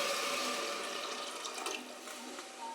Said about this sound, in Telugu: ఇది చూడండి వేగిందని కొంచెం వాటర్ వేసేస్తున్నాను